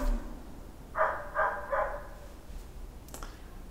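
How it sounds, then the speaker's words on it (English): A dog barks three times in quick succession at moderate distance, followed by quiet background with faint clicks. "I heard a dog barking"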